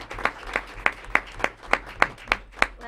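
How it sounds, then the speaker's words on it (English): A small group at a council meeting applauding Commissioner Hutt with slow, evenly spaced claps, about ten distinct beats with no talking. "I think we should give Commissioner Hutt a round of applause."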